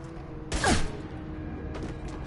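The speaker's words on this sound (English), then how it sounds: "Massive claymore shotgun." A claymore shotgun fires once in Mass Effect 2, a single loud, booming blast with a short falling tail, then low game ambience.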